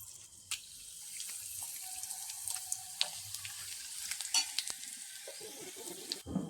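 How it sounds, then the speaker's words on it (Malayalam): Mustard and sesame seeds spluttering in hot oil for a pickle tempering, a steady close sizzle with scattered sharp pops and crackles, no talking. "കടുകും എള്ളും എല്ലാം പൊട്ടി വരുന്നുണ്ട്"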